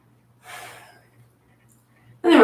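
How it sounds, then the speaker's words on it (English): A single breath is heard during a yoga pose, a soft, airy exhale, followed by quiet and then the start of a voice. "Take a couple breaths here."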